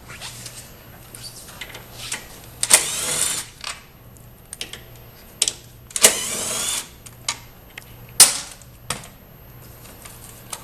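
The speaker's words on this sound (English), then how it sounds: "Next, we're going to remove the fuse box tray from the frame, two T40 Torx bolts." A power tool zips out T40 Torx bolts securing a motorcycle fuse box tray to the frame, giving several short whirring bursts separated by quieter handling clicks.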